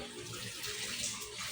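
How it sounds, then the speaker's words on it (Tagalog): Running water from a sink tap flows steadily while milkfish scales are cleaned under it, a constant soft hiss and splash with no talk. "linisin ko muna rin mga kaliskis dito"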